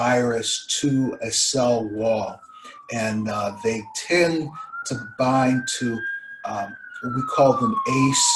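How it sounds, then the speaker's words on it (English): An emergency vehicle siren wails outside, its rising and falling tone sliding steadily in pitch and staying moderately loud behind someone speaking continuously in the foreground. "pardon the siren behind me,"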